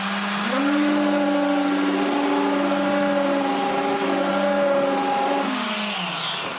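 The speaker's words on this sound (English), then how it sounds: "Brand new ROTEX. It's already to the timber." A brand-new Festool ROTEX RO 150 random orbital sander, 150 mm, runs continuously against timber, a loud, steady whirring drone with a rising motor whine after start-up that settles and holds until it winds down.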